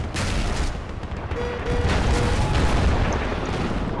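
Booming rifle reports from an L96A1 sniper rifle in a video game, a few heavy shots with rumbling tails over a noisy battlefield background, loud and close.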